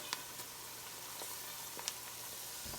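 Fresh ginger fries in a pot with rosemary while being stirred, giving a faint, steady sizzling hiss with a few soft clicks, alone and without talk.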